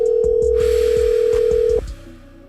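A telephone dial tone holds steady and is then cut off, with a few pulsing low tones through it, giving way to quieter line hiss as the call is placed.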